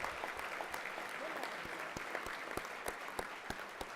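A crowd at a 2013 Role Model Award ceremony breaks into sustained applause during the introduction, a dense steady wash of clapping with scattered sharper claps and a faint voice underneath.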